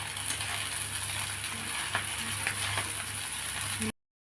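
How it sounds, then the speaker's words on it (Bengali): Chowmein noodles are stirred in a frying pan, producing a continuous close sizzle with light scraping and clinking under it. The sound stops abruptly near the end. "এবার চাউমিনটা আমি দেবো উপর দিয়ে, এইভাবে নেড়ে নেব, সুন্দর করে নেড়ে নেব"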